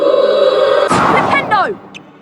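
Incendio fire spell cast in a Harry Potter: Chamber of Secrets video game, a loud whooshing burst that swells and crackles briefly, then fades, following a shouted incantation.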